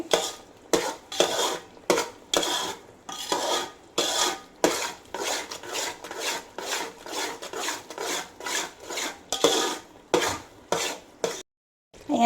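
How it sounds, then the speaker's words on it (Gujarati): Mohanthal sweet is stirred continuously in a pan with a utensil, making about twenty close, rasping scrapes in a steady rhythm with short gaps between strokes, alone and without talk, before stopping briefly near the end. "તે સતત હલાવતા રહેવાનું છે આપણે"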